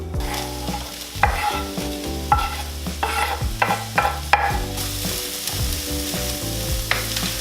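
Diced red pepper and yellow onion sizzle in oil in a pan, with steady frying hiss and irregular stirring scrapes over a tonal backing that may be music, and no talk.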